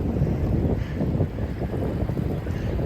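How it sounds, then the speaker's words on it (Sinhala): A small boat motors across a lake in England's Lake District, with a steady low rumble and gusty wind buffeting the microphone throughout. "නැවක් නෙමෙයි බෝට්ටුව"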